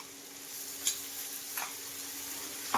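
Ginger-garlic paste fries with onions in a pan, making a soft, steady sizzle broken by a few sharp stirring clicks and scrapes.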